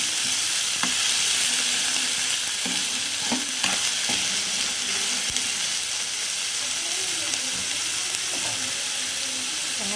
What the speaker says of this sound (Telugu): ఇప్పుడు ఆనియన్స్ అనేది ఇలా వేగింది కదా